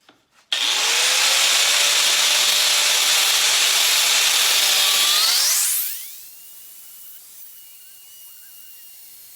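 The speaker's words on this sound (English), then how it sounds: "get my cutting wheel out, and we're going to cut 1-inch strips out of this piece" An angle grinder with a cutting wheel slicing one-inch strips from a length of angle iron, making a loud, steady, harsh screech for about five seconds that then winds down into a fading whine.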